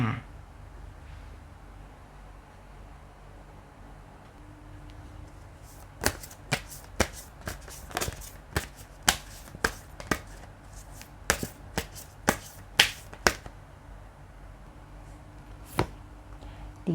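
Tarot cards shuffled and laid out for a Pisces horoscope reading: after a quiet stretch, a run of sharp, crisp card snaps and slaps comes close and clear in an irregular rhythm, with a voice faintly present.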